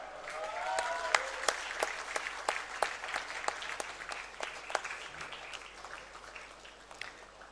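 Scattered audience applause at a medical conference award ceremony, irregular sharp claps from a modest crowd, fairly distant and gradually thinning out.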